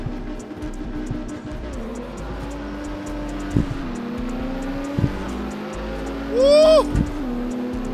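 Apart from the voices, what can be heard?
race cars launching and accelerating in the video game CarX Street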